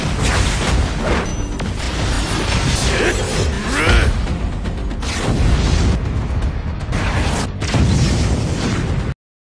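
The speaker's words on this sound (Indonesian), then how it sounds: "Karena ledakan sihir bola api dari pasukan bayangan Jinwoo" Fireball magic explosion from an anime battle, a dense roar of booming blasts and crackling bursts with whooshes, loud and continuous before cutting off abruptly.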